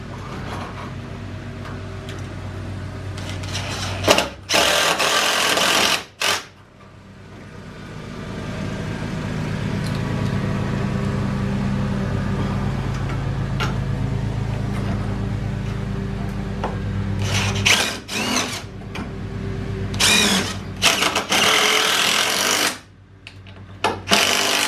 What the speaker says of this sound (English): So I got just some lag bolts. We're going to put some lags in these.